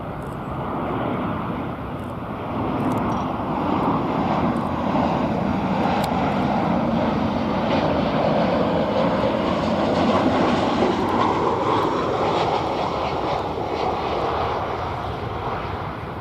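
Airliner descending to land at DFW Airport, a steady broadband engine roar heard from a distance, sustained and even throughout with no talk over it.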